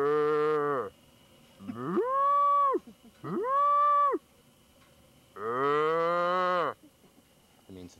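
Cows in rural central Virginia near the Blue Ridge moo loudly nearby, four long drawn-out calls with short pauses between them.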